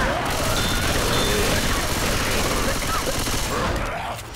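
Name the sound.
gunfire in the video game Left 4 Dead 2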